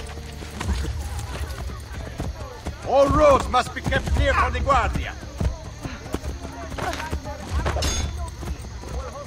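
Galloping horse hooves in Assassin's Creed: Brotherhood, a rapid clip-clop rhythm running throughout, with someone shouting over the riding noise.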